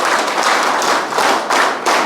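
An audience at a closing ceremony claps for honourees in a short burst of dense, close applause lasting about two seconds, with no voices.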